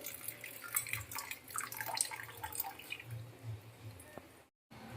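Coarse sago pearls are rinsed in water, giving soft, close splashing and trickling that stays faint and uneven, with a short gap near the end.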